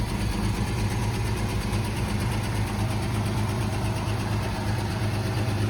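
A 1958 Jaguar XK150 engine idling steadily after a cold start, a continuous close, even rumble with no change in pace.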